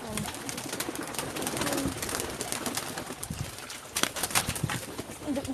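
Pet pigeons of the Batangas Race strain coo steadily in a loft, soft and close, with light rustling and shuffling alongside and no talk.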